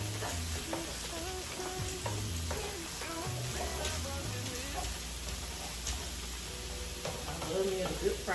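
Onions frying on a griddle at a home hibachi cook, a steady sizzle with scraping and stirring running throughout while a person talks over it and music plays underneath.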